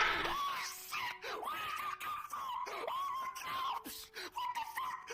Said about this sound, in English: I'm just screaming.